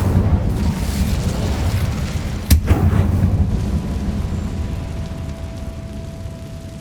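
Fire spell cast in the video game Hogwarts Legacy, set in a catacomb: a sharp burst at mid-clip followed by a second pop, over a steady low rumbling game ambience with no talk.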